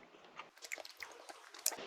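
Close, quiet chewing of dry-cured cervelat-like sausage, a short run of soft moist bites and squishy mastication sounds with no talking.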